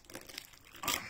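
Packaging of a Frozen-themed puzzle crinkles and crumples close by in quick, light bursts, with a louder crackle near the end.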